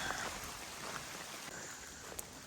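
Rain falls steadily on the Appalachian Trail in a faint, even hiss of drops, with a few slightly sharper taps, continuous and fairly distant, no voices.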